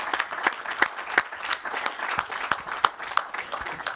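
An audience claps for cyclist Moser at a cycling race presentation, steady applause with distinct individual sharp claps standing out, moderately close and without talk.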